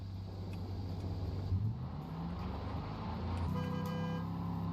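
Car horn toots sound over a steady engine rumble and road traffic noise, with a couple of short honks heard in the mix, moderately faint and with no talking.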